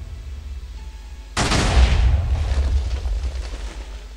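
Cluster TNT in modded Minecraft 1.7.2 goes off suddenly after a quiet stretch: a loud, close, booming blast that rumbles and crackles as it slowly fades.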